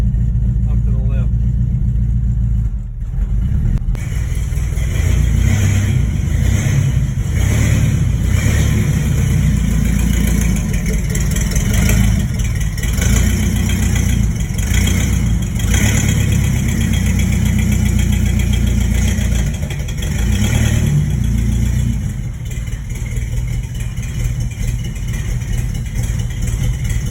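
A 1971 Chevrolet C10 pickup fitted with an LS engine runs loudly and close by, a deep rumbling idle with occasional revs and a rough, uneven note throughout.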